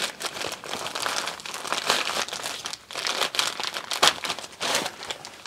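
Plastic packaging crinkles and rustles continuously up close as a Lego parcel is handled and torn open.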